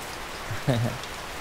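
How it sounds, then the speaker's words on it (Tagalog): Heavy rain at night hisses steadily as a constant wash of drops on surfaces, with a brief animal vocal or murmur rising near the middle. "So malakas yung ulan kagabi."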